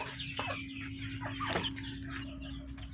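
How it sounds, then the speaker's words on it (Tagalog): Newly hatched chicks peep in an egg incubator: brief high chirps over a constant low electrical hum from the machine, fairly close. "naririnig ko may sumisiyap na mga sisiw"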